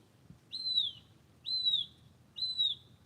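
A bird gives three identical high whistled chirps in an even rhythm, clear and moderately close, over a low murmur of background noise.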